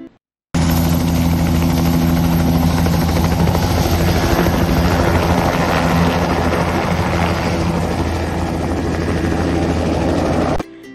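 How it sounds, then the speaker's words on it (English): A helicopter roars close and loud with a continuous rotor and engine drone, steady for about ten seconds, then cuts off abruptly. "Helicopter."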